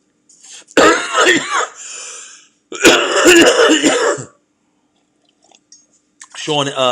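Two bursts of harsh, raspy coughing and throat clearing from joint smoke, close and loud, separated by a short pause, with a brief softer sound at the end.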